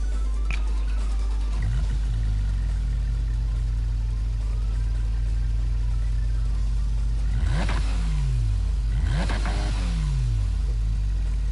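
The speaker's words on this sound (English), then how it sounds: "A nice engine sound." Car engine in Gran Turismo Sport revving hard through its gears, with repeated rising sweeps and shift dips, loud and steady against constant road rumble.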